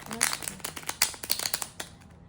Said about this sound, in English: let's get one good shuffle